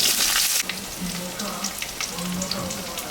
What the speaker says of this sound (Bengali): পটল আর আলুটা এখন ভাজে নেব।